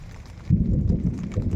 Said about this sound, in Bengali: মেঘের গর্জন আপনারা শুনতে পাচ্ছেন।